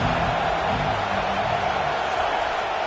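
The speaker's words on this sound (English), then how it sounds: "this crowd trying to help keep them there" A football stadium crowd roars in a dense, steady wash of noise, loud and continuous throughout with no distinct voices standing out.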